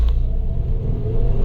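A 2009 Mazda 5 engine idles with a new engine mount fitted, heard as a close, loud, steady low rumble with a faint whine, smooth and unbroken for a moment, with no talk.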